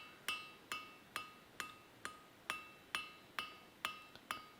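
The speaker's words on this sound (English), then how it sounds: "nice, slow, overlapping hammer blows" A hammer strikes hot iron on an anvil while forging Viking tongs, about ten bright, ringing blows at a slow, even pace. Each blow is close and loud with a short metallic ring after it.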